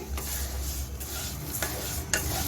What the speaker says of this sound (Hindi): भुनी सवैयाँ जो है वो हम इस तरह से घी में डाल देते हैं